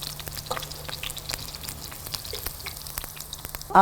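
Food frying in oil for an iftar dish gives off a soft, steady crackle and sizzle with scattered pops, close by, before a sudden louder clatter at the very end.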